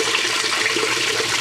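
A Whirlpool washing machine fills with warm rinse water, a loud, steady close-up rush of water pouring in with no pauses or talk.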